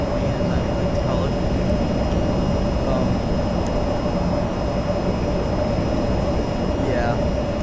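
In the VTOL VR flight game, a plane engine drones at a constant, even level throughout, with faint tonal chirps and speech mixed in over it.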